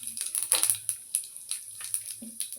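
Whole cumin seeds drop into hot oil left over from frying pointed gourd, giving bursts of crackling sizzle that flare up and then settle into a fainter, spitting fizz, with no voices.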